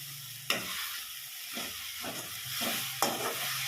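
Leafy greens fry in a pan with salt, a soft steady sizzle punctuated by several distinct stirring scrapes at irregular intervals, heard close with no talking.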